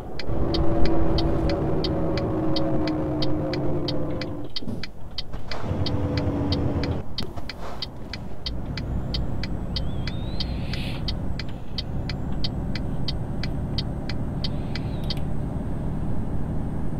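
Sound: heavy haulage truck pulling a heavy trailer

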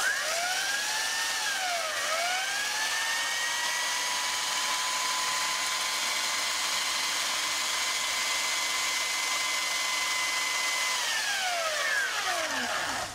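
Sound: homemade belt sander (grinder) running

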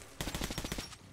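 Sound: shotgun firing in Metro 2033 Redux video game

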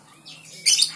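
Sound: straw-headed bulbul (cucak rowo) chick calling

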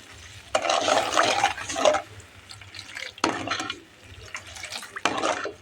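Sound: water poured over sugar for syrup

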